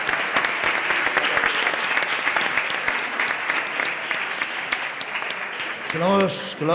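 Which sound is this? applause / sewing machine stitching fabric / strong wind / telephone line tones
applause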